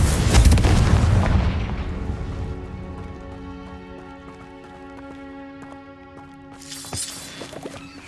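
In Hogwarts Legacy, a Confringo blast opens with a heavy booming burst that fades into a long tonal ringing, followed by a smaller crackling burst toward the end.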